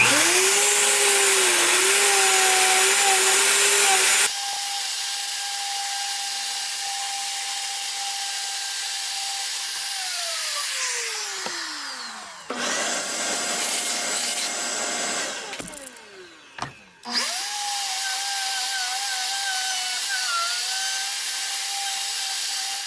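A router fitted with a 1/4-inch radius bit hollows a wooden tray into a dish. Its loud, continuous high whine changes pitch as it cuts and drops sharply in level partway through, with brief dips and surges near the end.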